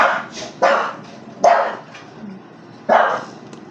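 Dogs barking in a household, four sharp loud barks spaced irregularly with quieter yips between them, no talk over them.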